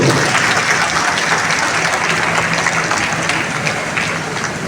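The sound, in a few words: audience applause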